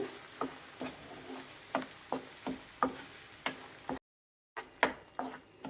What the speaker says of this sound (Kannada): ಇದನ್ನು ಫ್ರೈ ಮಾಡಬೇಕಾಗತ್ತೆ ಎಣ್ಣೆಯಲ್ಲಿ ಮೀಡಿಯಂ ಫ್ಲೇಮಲ್ಲಿ ಇಟ್ಟು ಫ್ರೈ ಮಾಡಬೇಕು